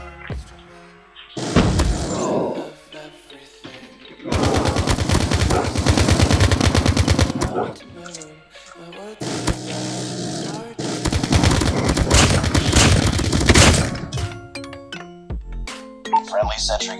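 Automatic sentry gun fire in Call of Duty Mobile Raid map, loud sustained bursts in two long stretches, separated by short gaps with game voice callouts and clinking effects.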